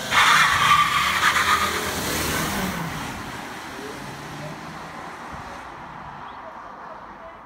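Front-wheel-drive Volkswagen Multivan T5 burning out, its tires squealing loudly at the start before the screech fades into a lingering hiss.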